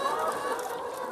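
Hens on an East Anglia farm cluck and murmur together as a steady flock, close and continuous with no talk.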